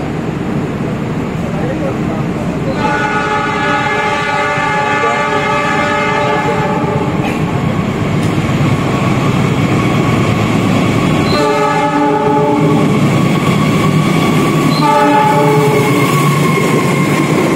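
A train horn blares in long sustained blasts, repeated several times, over a steady rumble of railway noise and background chatter at Solo Jebres station.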